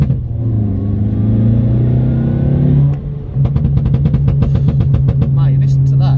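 A loud modified stage 2 Audi A1 idles, then revs hard in a rapid series of sharp, throaty bursts from its modified exhaust, close by.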